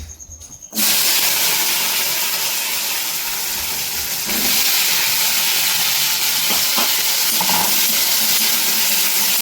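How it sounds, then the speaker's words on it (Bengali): A sudden loud sizzle bursts in after a short quiet moment as taro pieces go into mustard oil in a wok, continuing as a steady, intense hiss of frying. "প্রথমে তো কচুগুলো ভাজবো, তার জন্য কড়াই দিয়ে দিচ্ছি সরষের তেল, অল্প করে দিচ্ছি কচু"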